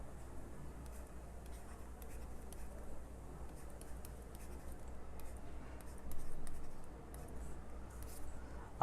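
Pen or marker strokes scratch out a maths equation on a board in a series of faint, irregular ticks and scrapes over a low steady hum, with no voice heard.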